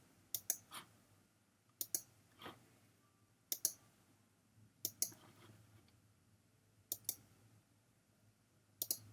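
Computer mouse clicks come in sharp, close pairs and singles, spaced a second or two apart over a quiet background.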